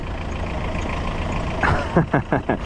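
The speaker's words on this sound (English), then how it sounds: "there you can hear the engine" Peugeot 309 hatchback engine idling steadily nearby, a continuous low mechanical rumble, with a few short rhythmic pulses near the end.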